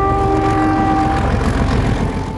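A train on the main Adelaide-Melbourne rail line sounds loud and close with a steady sustained horn-like tone over a dense rolling rumble of rail noise.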